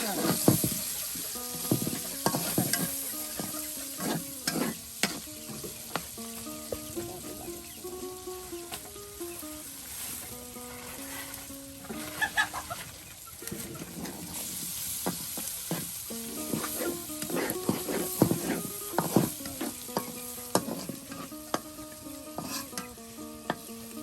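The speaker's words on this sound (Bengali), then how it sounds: "আর এখন মশলা কষানো হবে" Ground spice paste, garam masala and powdered spices sizzle in hot oil as they are stirred and scraped around a pan, with a steady close frying hiss, irregular spoon scrapes, and a voice talking over it.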